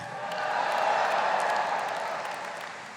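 An AIPAC audience applauds to welcome Vice President Mike Pence, a full hall of clapping that swells, holds steady and then gradually tapers off.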